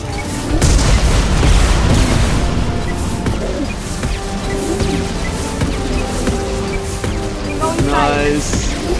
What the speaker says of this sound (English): The rocket launcher just cakes them, doesn't it?